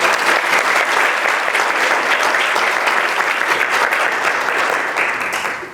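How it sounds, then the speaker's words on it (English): A seated audience at a literary panel event applauds loudly and steadily, a dense wash of many hands clapping close up that continues without a break before easing off at the end. "I would just like all of us to give her a round of applause."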